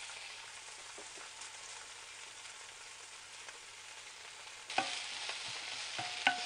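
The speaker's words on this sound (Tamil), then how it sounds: "நெக்ஸ்ட்டு வெங்காயம் போட்டு வதக்கலாம்." Onions sauté in hot oil with mustard seeds and urad dal in a pan, a soft steady sizzle with scraping stirs, jumping louder near the end as more goes in.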